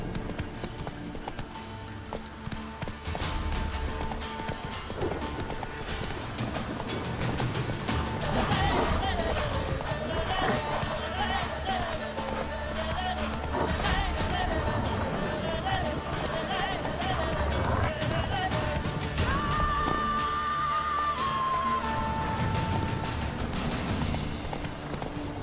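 Roach, Geralt's horse in The Witcher 3, gallops with a steady clip-clop of hooves under game music and effects, while someone talks over it throughout.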